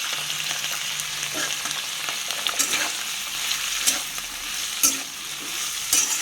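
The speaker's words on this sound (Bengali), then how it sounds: "বেশি ভাজবো না, সবজিগুলো হালকা হালকা ভাজবো" Mixed vegetables lightly frying for pulao, a continuous soft sizzle broken by repeated spatula stirs and scrapes against the pan, close and clear with no talking.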